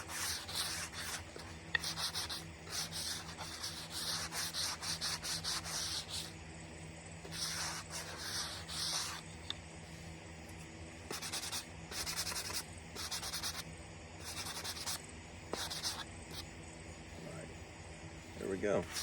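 A warhammer haft is smoothed and trimmed by hand, giving repeated close rubbing and rasping strokes in quick bursts with short pauses between them, while a person talks quietly underneath.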